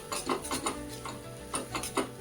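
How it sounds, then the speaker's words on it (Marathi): A thick raw totapuri mango chutney is stirred in a pan (kadhai) as it cooks, with a spoon scraping in a regular rhythm of soft knocks over a faint sizzle, close and without talk. "ही अशीच हलवत हलवत आपल्याला शिजवून घ्यायचं आहे."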